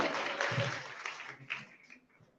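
Applause from an audience at a Christian writers' awards ceremony greets an award winner, a faint, steady patter of clapping that tapers off near the end.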